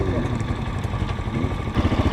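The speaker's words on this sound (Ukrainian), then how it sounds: "пацани казали, що тут штанговий двигун, він типа гірше їде" A pushrod-engine motorcycle runs steadily nearby with a low, throbbing idle, and a voice speaks faintly over it.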